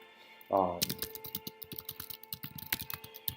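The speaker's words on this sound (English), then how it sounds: "typing and talking at the same time doesn't work well for me" Rapid computer keyboard typing clatters in quick irregular clicks, close and steady, during a Pokémon battle, after a brief voiced sound at the start.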